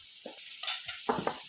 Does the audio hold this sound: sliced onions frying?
yes